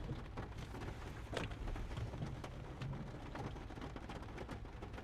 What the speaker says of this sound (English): I'm sure you can hear it tapping on the car. It's raining pretty hard compared to when I was outside.